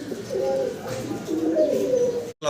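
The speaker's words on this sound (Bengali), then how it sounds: "দর্শক ভিডিও স্ক্রিনে আমরা দেখতেছি বিশাল বিগ সাইজের একজোড়া লাহোরি কবুতর" A pair of large Lahori pigeons coo in low, rolling phrases, close by, with a short sharp knock near the end.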